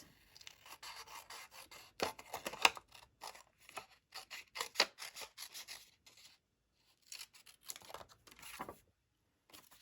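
Paper snips cutting through sheets of pattern paper for fancy corner fold card kits, a series of quiet crisp snipping and rasping strokes in bursts with brief pauses, close up with no talking.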